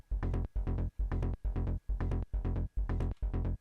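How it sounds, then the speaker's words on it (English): An original psytrance bass sample taken from a sample pack: deep, punchy bass notes repeating in a steady driving rhythm, about eight even hits at close, loud level with short gaps between them, no voices. "The original bass sample sounded like this."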